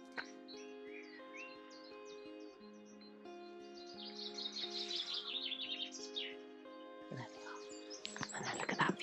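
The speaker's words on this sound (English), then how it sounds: "And can you hear the birds?" Birds sing and chirp through a quiet early morning on the Wales Coast Path, with a sustained tonal background and busier bursts of calls midway and near the end.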